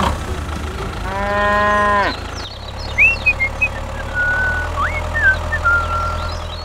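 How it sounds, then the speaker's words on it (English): A single long, loud cow moo sounds nearby, followed by higher squeaky calls over a low steady rumble. "here are your cows"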